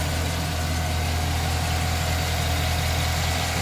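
A 2010 Chevy Silverado 1500 with a 4.8-liter Vortec V8 idles steadily under the open hood, a close, even low rumble with constant vibration and no talk.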